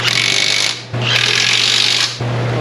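A power tool drives bolts on a Jeep steering rack with an 18 mm socket in an auto repair shop, giving three loud, close, steady whirring bursts separated by brief pauses.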